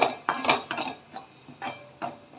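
Roasted coconut masala scraped from a pan onto a plate with a metal utensil, giving a series of sharp clinking scrapes in irregular bursts, close and fairly loud, with no talking.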